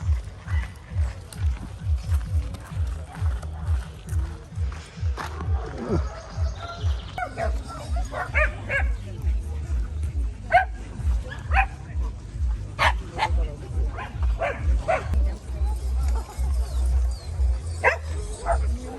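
Dogs barking at a 5 km race run with dogs, several sharp barks and yips rising repeatedly over a busy outdoor crowd with people talking throughout.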